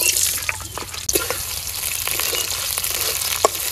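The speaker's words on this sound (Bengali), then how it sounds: "তেলের মধ্যে দিয়ে দিলাম কাঁচামরিচ আর পেঁয়াজ" Green chillies and onion hit hot oil in a kadai (wok), giving a loud, steady, close sizzle with a few sharper crackles and stirring knocks throughout.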